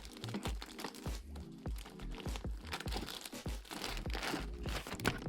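Plastic and cardboard packaging of a Super7 G.I. Joe Ultimates Baroness action figure crinkles, crunches and tears continuously, close up, with no talking.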